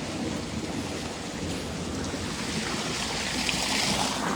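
A tractor-driven machine washing potatoes gives a continuous, heavy rush of churning water and low mechanical rumble, steady and fairly loud throughout with no voices.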